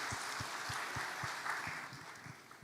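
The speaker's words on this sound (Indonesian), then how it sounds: "Yang baru pertama kali hadir, ya kita berikan tepuk tangan." Congregation applauding during a church worship service, a soft, distant, steady patter of many hands clapping together in a large room, with low rhythmic thumps underneath.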